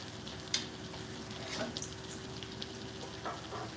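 Luffa gourd and pork being stir-fried in a pan give a steady, faint sizzle, with occasional light scrapes and clinks of a utensil against the pan.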